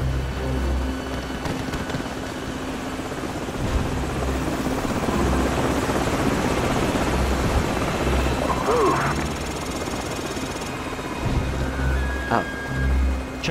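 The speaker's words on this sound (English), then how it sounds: "Enemy helicopters." Enemy helicopters in Call of Duty 4: Modern Warfare, a constant rumbling rotor drone mixed with rain-like noise and game effects, holding loud across the scene with brief tonal alerts partway through.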